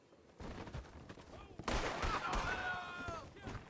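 Gunshots ring out in a Red Dead Online duel in West Elizabeth, a few sharp cracks mixed with game sounds and talking voices.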